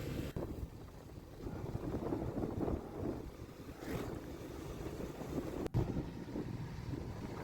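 A motorbike ride through cold fog in Idukki, heard as steady, rushing wind buffeting the microphone with a low engine-like rumble throughout and a brief dropout near the end.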